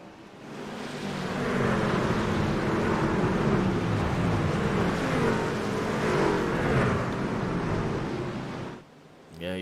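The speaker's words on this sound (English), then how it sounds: "you should hear the trucks as they go by right here, following the pace car" Race trucks circle two by two behind the pace car at Daytona, a steady, loud, broadband engine roar holding for most of the stretch before dropping away briefly near the end.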